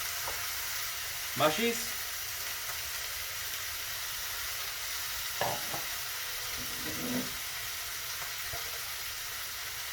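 Mince with onion and tomato sizzles steadily in a pan, a soft, even hiss with a few clattering stirs and a brief spoken word, moderately quiet and close.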